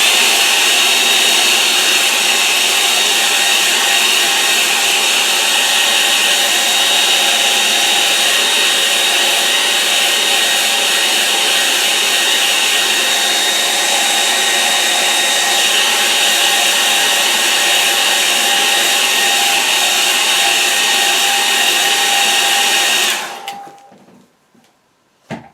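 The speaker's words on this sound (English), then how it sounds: "I'll dry that because I want to just bring a bit of a beach round in front of that" A hair dryer blasts a wet watercolour painting with a loud, steady, close roar for over twenty seconds, then switches off abruptly, leaving near silence and a small knock at the end.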